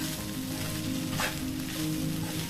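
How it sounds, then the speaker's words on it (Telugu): Soaked flattened rice (poha) with boiled potatoes fries in a pan, producing a close, continuous sizzle with faint stirring scrapes and no talking. "ఇప్పుడు ఇది 1 minute ఫ్రై చేసుకోవాలి."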